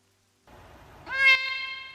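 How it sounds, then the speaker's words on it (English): A single cat meow plays as a sound effect. It starts soft and breathy, then rises into one clear tonal mew and fades out. "the disappearing meow"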